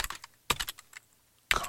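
Short bursts of typing on a computer keyboard, a few quick clustered key clicks separated by brief pauses, close and fairly quiet with no talking.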